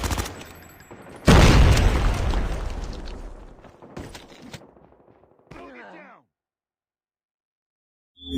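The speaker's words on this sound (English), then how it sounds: "Watch out! Grenade!" A loud grenade blast from the Call of Duty Mobile shooter game erupts suddenly and decays over a few seconds amid scattered gunfire, followed by a brief shouted voice line before falling silent.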